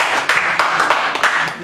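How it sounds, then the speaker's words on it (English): Audience applause at a symposium for the first speaker receiving a certificate and plaque, a brief burst of scattered clapping with a voice faintly underneath. "with a round of applause, with a round of applause"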